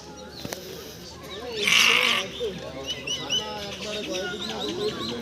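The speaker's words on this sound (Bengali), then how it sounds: "এখন দেখেন এখানে ছাগল" Goats at the Nishiganj goat market in Bangladesh: a loud bleat rises out of a busy crowd, with people talking and chirping nearby throughout.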